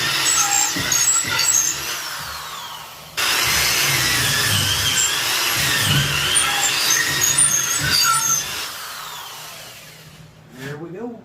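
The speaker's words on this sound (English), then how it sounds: "drill it all the way down through the wood" A power drill whines steadily with rising and falling pitch, grinding as it bores down through wood, then stops near the end.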